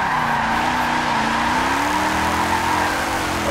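A big torquey V8 race car in Forza Motorsport 7 roars steadily while its tires squeal and skid through a sliding turn, the engine pitch rising and falling under a constant loud howl.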